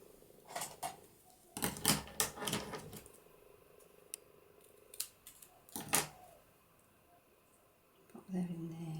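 Paper being snipped with scissors while trimming a Polaroid frame embellishment for a papercraft project, giving a few crisp, close cuts in short bursts with pauses between, and a voice speaking at the start.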